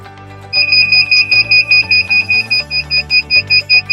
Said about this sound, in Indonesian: Nanti ada timer yang akan berbunyi di mesin press ini ya